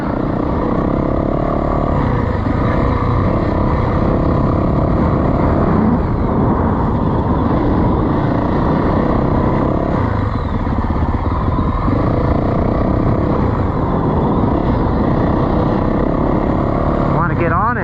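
A 2024 Yamaha YZ450FX dirt bike being ridden during break-in, its engine a steady, loud, continuous drone throughout with shifting pitch as the throttle varies, no pauses.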